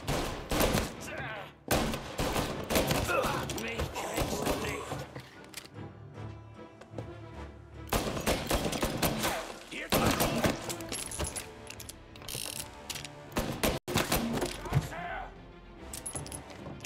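Sustained gunfire in Mafia: Definitive Edition, the PS4 remake, fills the scene with repeated loud volleys and rapid automatic bursts separated by short pauses, while voices talk over the shooting.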